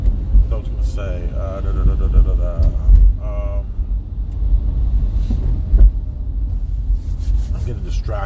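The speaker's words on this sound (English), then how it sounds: "I'm getting distracted because it's just so much traffic" Heavy street traffic in the Bronx, New York, a continuous low rumble of passing cars and buses with occasional squeals and engine surges, close and steady, with a person talking over it.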